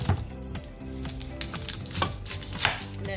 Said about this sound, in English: If you cut onion more than one, that's how you do it.